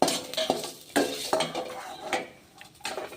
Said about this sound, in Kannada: ಈರುಳ್ಳಿನೂ ನಾನು ಫ್ರೈ ಮಾಡಿ ತಕ್ಕೋತಿದ್ದೀನಿ.